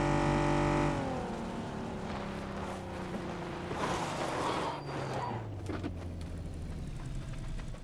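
A McLaren car engine in the PUBG battle royale game, loud and close throughout, holding a steady roar before its pitch gradually drops lower toward the end with some rougher bursts in between.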